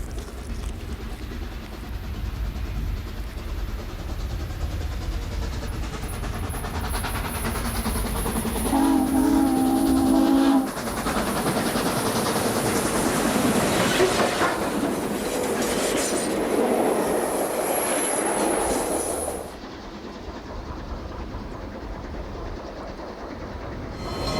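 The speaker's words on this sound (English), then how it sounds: "Train 98 has departed the station at 3rd and Townsend and is seen approaching 7th Street." A Southern Pacific Daylight steam train, Train 98, approaches along city track near 7th Street from the 3rd and Townsend station. A steady loud rumble and clatter of rolling cars, with a brief whistle-like tone midway and squealing wheels.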